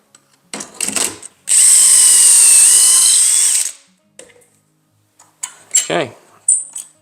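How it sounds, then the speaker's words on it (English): A power drill whines loudly for about two seconds drilling a dowel hole through a locked-down jig, surrounded by brief clicks and handling clatter; a short voice-like sweep comes near the end. "lock it down, and again we're drilling the first hole."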